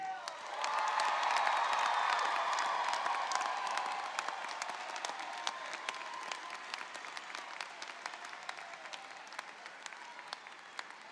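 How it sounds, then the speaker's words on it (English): Commencement crowd at USC Upstate applauding the class of 2023, a dense roar of clapping that swells quickly, peaks early, then thins into scattered claps with faint cheers. "So one more round of applause for the class of 2023"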